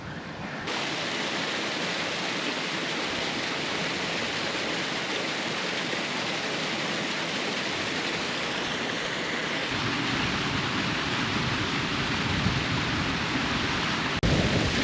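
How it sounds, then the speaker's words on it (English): Waterfalls along a mountain trail on Black Mountain produce a steady, broad rushing roar of falling water, close and unbroken throughout with no voices. "It's just a never-ending trail of waterfalls along this route."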